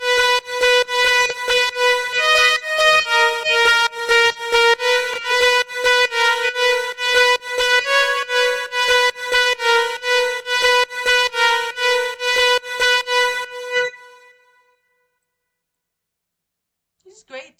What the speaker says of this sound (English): So next up is a lead.